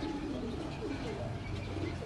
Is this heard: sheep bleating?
no